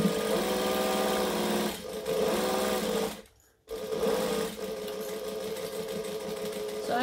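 A sewing machine stitches and backstitches a tote bag, its steady fast motor whir running loud and close, pausing briefly to silence midway before starting up again.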